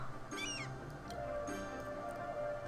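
A cat meows a few times within a Cities: Skylines game, short rising calls set over steady game background tones.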